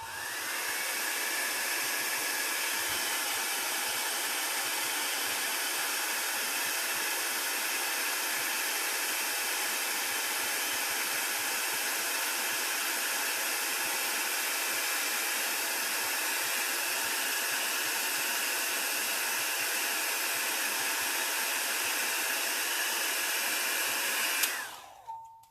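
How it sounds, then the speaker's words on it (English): A handheld heat dryer blows steadily and loudly for about twenty-five seconds over alcohol ink freshly sealed with a squirt of Kamar varnish, a constant airy whoosh that cuts off abruptly at the end. "I'll use my dryer."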